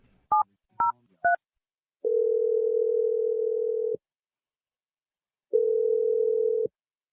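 Three short DTMF keypad beeps as a phone number is dialed, followed by two long steady ringback tones with a pause between, clear and alone with no talking.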